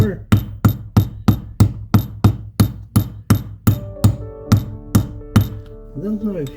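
A hammer strikes metal rivets on the back pockets of jeans in a steady run of about fifteen sharp, close knocks, hitting with the edge of the hammer. A short ringing tone follows at the end.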